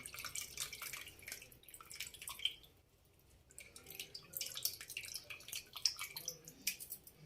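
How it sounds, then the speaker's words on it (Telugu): Soaked tamarind juice pours and drips into a pan while cooking fried fish at home, a soft, continuous wet trickle with scattered splashy drips, fairly faint and close, with no talk. "ఈ పులుసు పోసుకుందాం"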